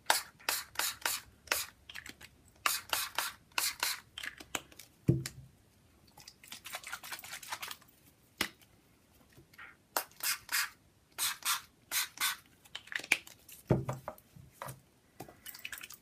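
Cans of spray paint hiss in a series of short, sharp bursts at close range, with brief pauses between them and no talking.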